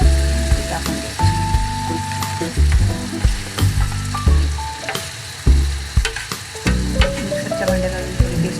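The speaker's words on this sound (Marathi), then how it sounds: "छान परतून घ्यायचा सर्व मसाला" Masala paste for mutton rassa fries in hot oil, sizzling loudly and close while a spoon scrapes and stirs the pan in repeated rough strokes and clinks.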